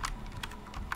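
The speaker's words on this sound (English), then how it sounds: "I'm just going to type news from" Quick bursts of computer keyboard typing, several crisp key taps in under a second, close and clear with no talking.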